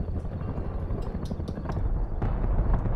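Attack helicopter rotors chop in the distance in Rust, a low rumbling beat with faint irregular pulses, steady and unaccompanied by speech.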